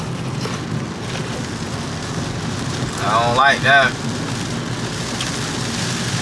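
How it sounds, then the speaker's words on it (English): Steady rain drums on a moving car on the road to El Yunque rainforest, a constant broadband hiss close around the cabin, with a brief spoken remark partway through. "Seems to be raining right now."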